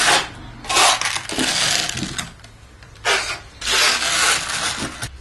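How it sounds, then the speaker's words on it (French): An iron spatula spreads and smooths polished concrete over an old wooden table. Scraping strokes come close and fairly loud in several separate passes with short pauses between them, and no talk. "étaler donc le produit avec une spatule fer qui donnera l'aspect final"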